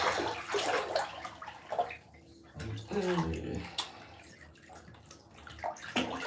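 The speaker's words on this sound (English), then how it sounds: "water's coming out" Tap water runs into a bathtub in a home bathroom, a steady broadband rush with gurgling under intermittent close talk.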